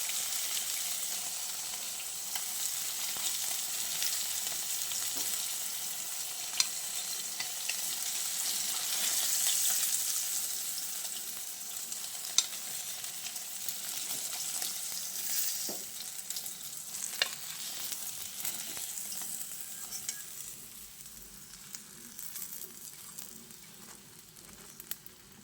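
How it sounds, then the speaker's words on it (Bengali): Katla fish pieces sizzling lightly in hot oil in a pan, a steady crackling hiss running unbroken for the full stretch, with occasional small pops and a faint stirring clatter. "আমি যেহেতু ঝোলের মাছ ভাজছি, তাই খুব বেশি কড়া করে ভাজছি না"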